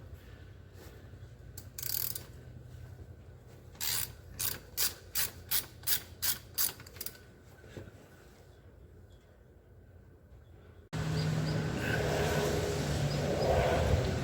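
A ratchet wrench loosens 12 mm skid plate bolts on a Honda Rancher 350 ATV: a short click burst, then a run of about eight rhythmic ratcheting strokes, close and crisp, followed by a louder, noisier stretch of handling.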